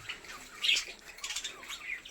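Budgerigars chirp and twitter at a breeding farm in quick, scattered bursts, light high-pitched calls at moderate distance with no speech.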